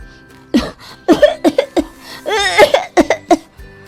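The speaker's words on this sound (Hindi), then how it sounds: "वो जानबूझकर जोर जोर से खांसने की एक्टिंग करना शुरू कर देती है" A woman coughs repeatedly in loud, exaggerated bursts, with a drawn-out strained cough in the middle, sounding deliberate and theatrical.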